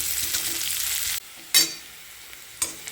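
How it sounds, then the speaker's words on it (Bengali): Onions being stirred and fried in a pan: a loud close sizzle for about a second, then quieter frying punctuated by two sharp bursts of spoon scraping or stirring, with no voices. "চলো পেঁয়াজটা খুব ভালো করে নাড়িয়ে চাড়িয়ে ভেজে নিই"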